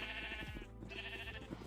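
Sheep in the video game Minecraft bleat twice in a row, loud and close, with a steady drone underneath and no talking.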